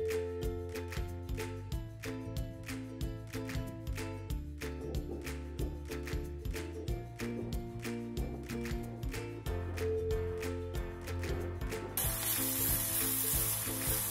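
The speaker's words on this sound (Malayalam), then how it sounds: "ഇതും കൂടെ ഒന്ന് വഴറ്റി വെക്കാം. പെട്ടെന്ന് വഴന്ന് കിട്ടാനായിട്ട് ഇത്തിരി ഉപ്പും കൂടി ചേർത്ത് കൊടുക്കാം." Vegetables sauté with a little salt in a hot pan for a Kerala bitter gourd masala, giving a steady close sizzle broken by rapid, regular stirring clicks and scrapes, with no voices.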